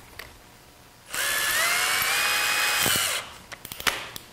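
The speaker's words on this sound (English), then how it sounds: "Chuck a driver into my drill again" A power drill with a driver bit drives a bolt into wood, a steady whining burst of about two seconds, followed by a few light clicks and taps.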